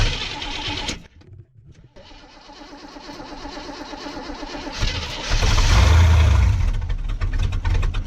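Car engine fitted with a freshly rebuilt Rochester Quadrajet electronic E4ME carburetor, sputtering and catching, then rising into a louder, rougher rev before settling back to an unsteady run.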